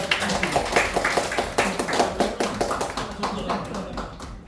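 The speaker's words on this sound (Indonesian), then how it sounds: "Beri tepuk tangan yang mulia." Applause for the main speaker at a school gathering on positive school culture, a dense run of hand claps and taps filling the room, fairly close and steady before tapering off at the end.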